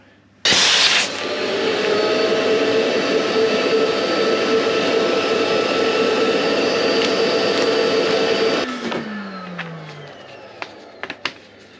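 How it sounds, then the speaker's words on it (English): A loud, steady vacuum cleaner roar, sucking the air out of a vacuum bag, starts abruptly and runs for several seconds, then cuts off and winds down, followed by a few faint clicks. "you just use your vacuum cleaner to suck a vacuum"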